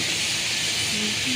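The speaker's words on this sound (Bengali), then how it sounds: "দেখুন, ইলিশ মাছের টুকরাগুলো আমি ভেজে নিচ্ছি।" Hilsa fish pieces fry in a pan for a Bengali dish, making a brief, steady bright hiss of sizzling oil at close range with no break in the sound.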